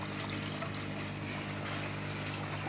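Water lifted by a small 18-watt pump in an aquaponics system flows and trickles continuously at low volume, a soft steady splashing with a faint hum beneath.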